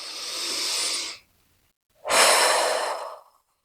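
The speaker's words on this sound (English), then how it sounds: "Let's have a deep, grounding breath." A deep breath, taken alone and close: a long, airy inhale, a short pause, then a full, slow exhale that trails off.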